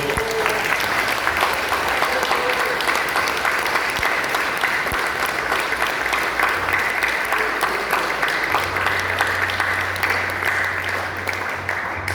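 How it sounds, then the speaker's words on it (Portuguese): A church congregation applauds steadily and loudly for a long stretch, a dense sustained wash of clapping with a low hum beneath. "Dá um aplauso ao Senhor, porque Ele é bom."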